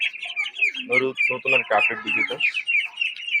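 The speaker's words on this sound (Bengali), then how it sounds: "এই যে আমার হাঁসের বাচ্চাগুলো, আজকে বয়স 21 দিন চলছে।" Young ducklings, three weeks old, chirp in rapid high peeps close by, a busy overlapping twitter, while someone talks over them partway through.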